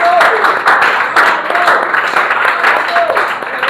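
A church congregation at a Sunday worship service applauds and cheers loudly and continuously, a dense wash of clapping with voices rising through it.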